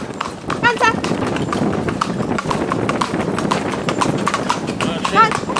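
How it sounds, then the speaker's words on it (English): Horse hooves clip-clop at a canter while the horse pulls a driving cart, the rhythmic beats steady and fairly close, under near-constant talk from people urging the horse on. "Take him up to canter, yes."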